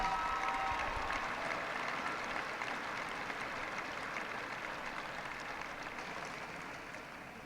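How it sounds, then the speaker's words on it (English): Audience applause at a Tippie College of Business commencement for an award-winning accounting graduate: steady, dense clapping from a large crowd, fairly distant, fading gradually over several seconds with no talk. "So I'd like a round of applause for Catherine"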